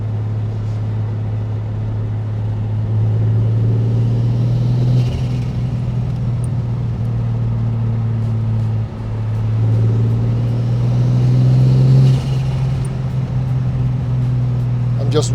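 A Toyota Supra with a 2JZ engine and Precision turbo drives on boost, a steady low engine drone that swells at points, heard from inside with a voice talking over it.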